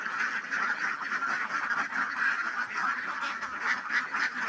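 Many ducks in a duck house on a duck farm quack and honk together in a continuous, close chorus that fills an enclosed space.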